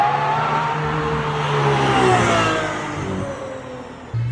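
An Aston Martin Valkyrie supercar passes on a London street, its loud high-revving engine note sweeping in pitch as it accelerates by, with a sharp shift in tone near the end.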